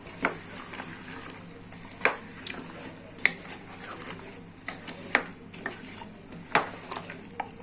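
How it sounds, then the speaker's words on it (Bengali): A spoon stirs turmeric powder through a mango pickle, giving soft scraping and repeated sharp clinks against the pot at an uneven rhythm, close and fairly quiet. "চা চামচ হলুদের গুঁড়ি দিয়ে দিব দিয়ে আমি ভালোভাবে মিশিয়ে নিব"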